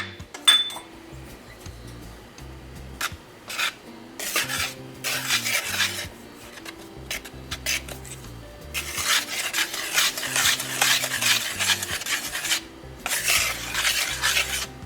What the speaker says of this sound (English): I'm going to whisk together the dry ingredients